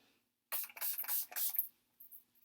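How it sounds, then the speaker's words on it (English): Makeup primer spritzed onto a face from a pump bottle: several quick, close hissing sprays in a rapid burst, then two fainter short puffs after a pause, with no talking. "I'm going to spray a little of my my primer, my makeup primer, on my face"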